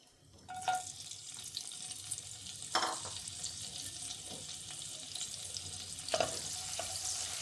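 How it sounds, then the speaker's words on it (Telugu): Anchovies frying in hot oil in a pan for an egg and anchovy curry, a steady broadband sizzle with a few louder bursts of crackle and stirring, no voices. "నెత్తళ్ళు శుభ్రంగా క్లీన్ చేసుకొని ఆయిల్లో ఫ్రై చేసుకొని తీసేసుకోవాలండి"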